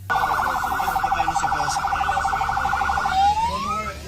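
A siren wails steadily for about three seconds with a fast warbling pattern, then sweeps upward once, moderately distant under low background rumble, associated with an INASIF ambulance arriving at a death scene.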